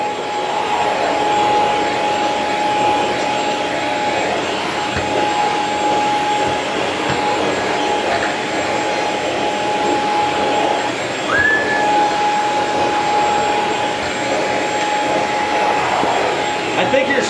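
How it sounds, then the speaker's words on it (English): An upright vacuum cleaner running on a staircase drones steadily at close range with a high whine, its motor tone holding constant throughout with only faint bumps. "I finished all the staircase and I got plenty of extra cord"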